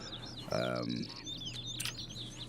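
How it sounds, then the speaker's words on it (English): Birds squawk and chirp in a hunting video game, with a louder harsh call near the start followed by scattered quick tweets against a steady low hum, fairly faint overall. "I can already hear them squawking at me."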